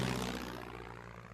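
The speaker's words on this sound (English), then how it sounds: "It's a French plane!" Propeller plane, a French aircraft, droning overhead with a steady loud engine hum that slowly fades over a short moment.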